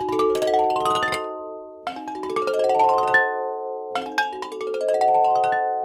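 Three bright, bell-like glassy glissandos sweep upward in turn, each a rising run of shimmering tones that rings out before the next begins.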